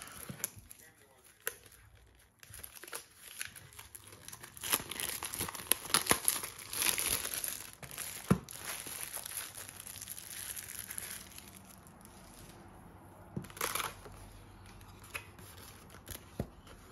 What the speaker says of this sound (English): nothing like ripping some cards